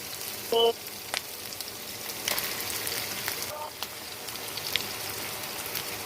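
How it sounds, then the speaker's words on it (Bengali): Shrimp and tomato fry in a pan with a soft, continuous hiss, fairly quiet throughout. A few faint clicks and taps sound from the pan. "দেখতে পাচ্ছেন এটা আমার ভাজা ভাজা হচ্ছে"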